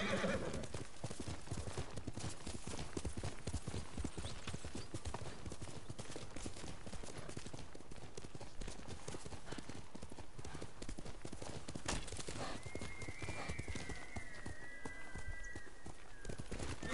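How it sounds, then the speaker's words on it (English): Steady galloping hoofbeats thud continuously, joined near the end by a brief horse whinny, all under a busy soundscape from the video game Ghost of Tsushima. "horse!"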